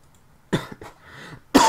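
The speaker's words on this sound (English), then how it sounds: "You might hear, you know, coughing like that a bit." A sick gamer coughing during ranked Search & Destroy play, two or three short, close harsh coughs with a throat-clearing rasp between them, then another cough at the end.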